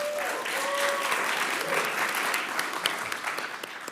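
A crowd applauds steadily for the full length, a dense even patter of many hands clapping with no pauses.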